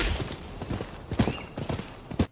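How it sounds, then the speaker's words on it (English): Horse hooves clip-clop in a quick galloping rhythm in the video game Rise of the Ronin, close and fairly loud, with a brief whinny in the middle and no speech. "automatic destination running for your horse, and automatic riding when you call up your horse"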